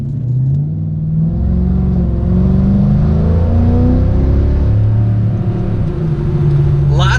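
A stock Mercedes E55 AMG supercharged V8 rumbles and revs repeatedly up and down, loud and close, with deep muscle-car tone and little supercharger whine, while a voice talks over it.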